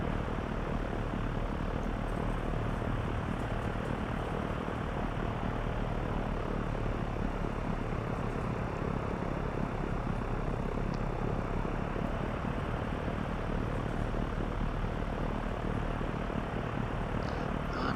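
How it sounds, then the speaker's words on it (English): Simulated airliner engines in the X-Plane 11 flight game during a runway taxi, a steady, loud, unbroken broadband roar with a constant low hum that holds the same level for the whole stretch. "I'm just taxiing down a runway here."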